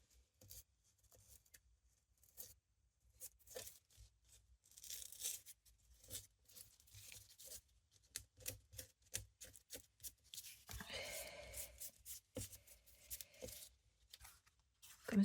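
Toned paper being torn by hand, a run of short, close, quiet ripping strokes in an uneven rhythm, with a longer tear toward the end in an otherwise silent room.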